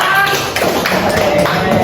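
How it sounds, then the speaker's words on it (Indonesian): Students in a classroom applaud their classmate Rangga for speaking confidently in front of the group, a close, continuous crackle of many hands clapping with faint movement underneath, sustained across the whole moment. "Tepuk tangan dong buat Rangga"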